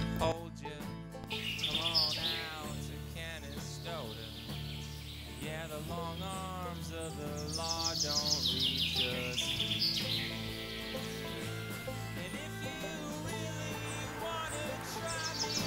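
Birds sing and chirp in a house garden near a pavilion outside Dourdan, several overlapping songs and calls, fairly close and clear, continuous with no talking.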